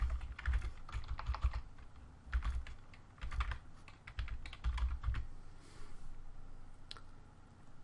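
Typing on a computer keyboard while entering a name during Ubuntu setup: bursts of quick, close key clicks in irregular clusters with brief pauses, no voices.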